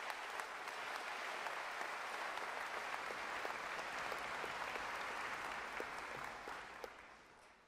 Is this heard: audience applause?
yes